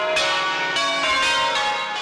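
Ten church tower bells at Christ Church Cathedral ring out together, a loud, dense wash of overlapping metallic peals with fresh strikes every half second or so, heard from up inside the bell tower with no voices.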